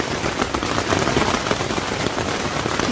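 Steady rain falls during a river camping trip, a dense, continuous patter drumming on a surface at close range with no pauses.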